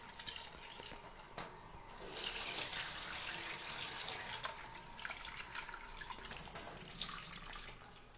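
Tap water runs steadily while soaked red lentils are washed in a bowl, a continuous close splashing and gurgling with small shifts as the lentils are stirred, heard with no talking.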